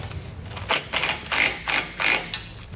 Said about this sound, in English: Basically run this fastener up until we're pretty close.